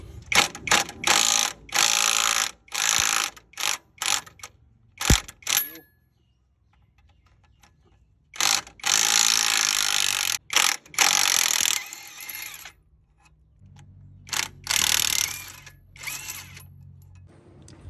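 An Osuka OSID831 cordless impact wrench hammers a nut in loud bursts of rapid ratcheting impacts separated by pauses, close up, with brief quiet gaps and a faint voice in between.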